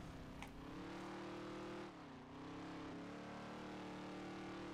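A race car engine on a qualifying lap in NASCAR Heat 3, a loud, steady droning roar whose pitch dips briefly as the car lifts through a corner, then rises again.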